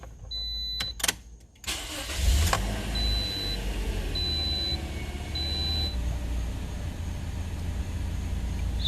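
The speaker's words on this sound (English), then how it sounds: "So now we're gonna go ahead and start the vehicle and see if the reverse is working." A Toyota Corolla starts up: a few clicks and a brief crank, then the engine catches and settles into a steady idle close by, while a dashboard chime beeps repeatedly.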